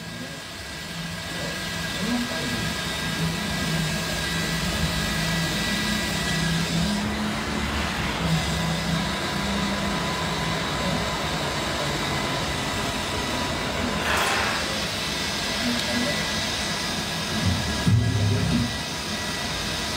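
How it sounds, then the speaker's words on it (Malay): An electric fan runs indoors with a steady, broad whooshing drone that holds at an even level throughout, with brief faint knocks and rustles over it. "Kuatkah bunyi kipas ni?"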